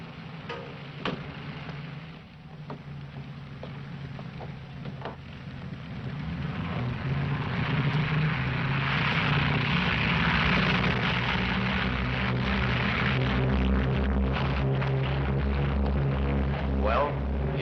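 Propeller aircraft from a 1940s airfield taking off, a steady engine drone that swells louder midway and holds, with low rumbling throughout.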